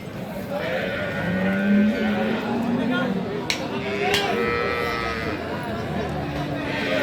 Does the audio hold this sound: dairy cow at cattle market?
yes